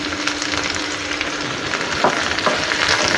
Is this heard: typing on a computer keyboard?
no